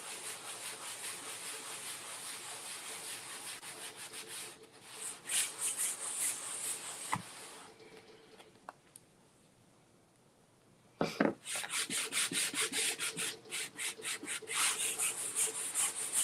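A wooden DIY Christmas sign is rubbed and distressed across its surface in quick, close, rhythmic scraping strokes. The strokes pause briefly midway, then resume at full strength.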